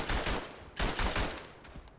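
Belgian machine gun firing in the WWI shooter game Verdun, rapid loud bursts in two clusters, the second starting abruptly after a short lull, then tailing off, with no voices.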